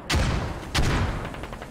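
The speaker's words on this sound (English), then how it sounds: "Oh, here comes mortars. Ooh, a bunch of mortars in the forest here." Mortar rounds landing in a forest in the military shooter game Squad, two heavy, deep booms in quick succession, each followed by a rumbling, crackling tail.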